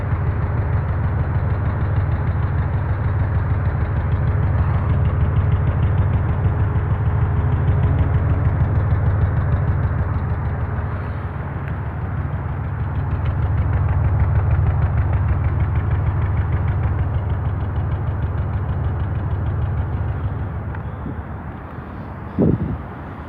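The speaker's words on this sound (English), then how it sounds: "you can hear like a tuk tuk tuk tuk tuk tuk tuk tuk tuk." A car engine idles steadily for a long stretch with a cylinder 4 misfire, a persistent low drone carrying a fast, even tuk-tuk ticking from the exhaust, close up and without speech.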